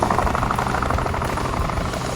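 A helicopter in the open-world driving game Off The Road, a loud, continuous close rotor and engine roar with a steady fluttering pulse throughout, with no talk over it.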